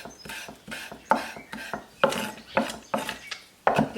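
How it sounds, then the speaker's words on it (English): A knife roughly chops coriander, parsley and mint on a board in steady, repeated thuds, about two per second, close and fairly loud, each stroke with a short crisp crunch. "I'm now going to just roughly chop my herbs"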